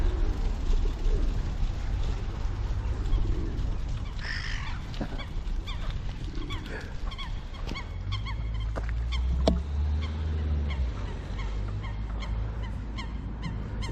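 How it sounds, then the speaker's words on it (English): Waterfowl at Swanbourne Lake near Arundel: geese honk and other birds coo and call at varying distances over a continuous outdoor murmur, with a louder burst of low calls partway through. "See all the birds."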